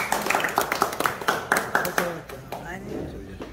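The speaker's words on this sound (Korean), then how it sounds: "자, 박수!" Rhythmic group clapping at a Korean singers' association after-party, sharp regular claps in a steady beat for about two seconds, then fading into murmured talk and room noise.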